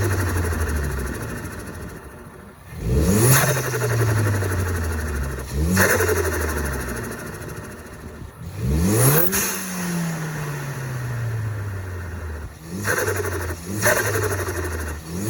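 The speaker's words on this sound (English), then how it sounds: "how to get turbo flutter on your Focus ST" A Ford Focus ST with a turbo set up for flutter revs repeatedly, each blip rising sharply and then falling away as the engine settles back to idle between four or five close, loud throttle stabs.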